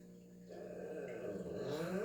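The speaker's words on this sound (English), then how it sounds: "I have a very large dog with a very large bark" A very large dog growls low and continuously indoors, faint at first and swelling a little louder toward the end, with no talking.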